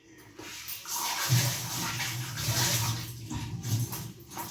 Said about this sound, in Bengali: এই কৌটোটাকে ভালো করে ধুয়ে নেবো